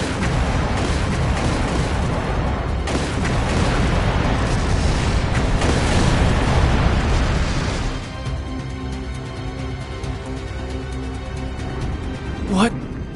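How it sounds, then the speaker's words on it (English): Gunfire in the video game Trails Through Daybreak 2 during fighting in a city: dense, rumbling bursts of shots and blasts for about eight seconds, then quieter game sound with a brief rising tone near the end. "Confirming source of gunfire."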